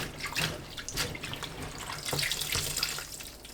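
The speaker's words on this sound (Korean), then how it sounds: "고추 넣고 헹궈서 건져 체에 받쳐둡니다." Chili peppers are rinsed in a bowl of salted, sugared water, giving close splashing and sloshing with scattered drips and bursts of running water, continuous and fairly quiet, with no voices.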